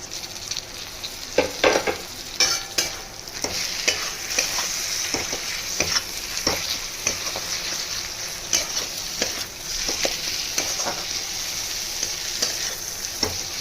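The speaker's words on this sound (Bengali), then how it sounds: "এই মশলা কষাটা মিডিয়াম টু লো হিটে করতে হবে" Ginger paste, green chilli and chopped tomato masala stirred and sautéing in a pan over medium-low heat: a steady close sizzle with repeated scraping stir strokes, no voices.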